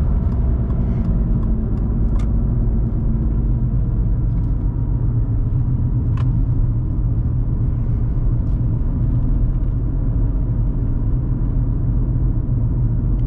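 A Volkswagen Golf MK4 with the 1.4 75 hp engine pulls uphill in second gear, giving a steady, loud low engine rumble with road noise throughout and no talking.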